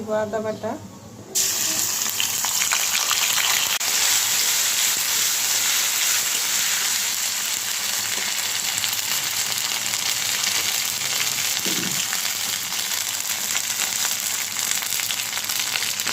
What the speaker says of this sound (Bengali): মেথি সবগুলো একটু লাল করে ভেজে নেব তো শুকনো মরিচটাও লাল হয়ে গেছে